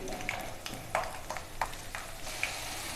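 Garlic and chana dal fry in hot oil for tamarind rice, giving a steady close sizzle with a few sharper crackles and spoon-stirring clinks spread through it, no voices.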